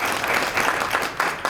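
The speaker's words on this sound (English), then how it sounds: "let's give Chloe a round of applause" At a 2022 district spelling bee, an audience gives a contestant a short, steady round of applause, fairly close and filling the room without any talk.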